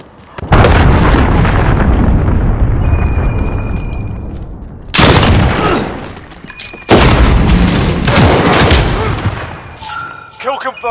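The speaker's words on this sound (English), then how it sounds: "Enemy cruise missile incoming!" Cruise missile strikes in Call of Duty: Modern Warfare, loud booming explosions in three heavy bursts separated by short gaps, each rolling off with debris rumble, followed by brief electronic game tones.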